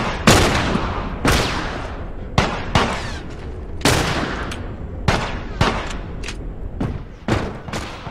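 Gunfire in The Last of Us during a bandit attack: sharp, loud individual shots at irregular intervals, about a dozen cracks each followed by a short decaying echo.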